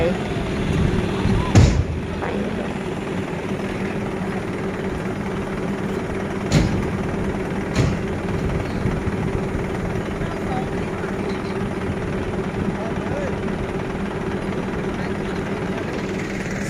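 A tractor pushes a dump truck, its heavy engine droning steadily throughout, with a few sharp metallic bangs breaking through and people talking over the noise.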